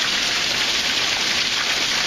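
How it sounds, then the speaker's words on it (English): Heavy rain pouring onto a carport roof, a dense, unbroken hiss that stays loud and close throughout, with nobody speaking. "It's raining pretty hard. I'm out here in our carport."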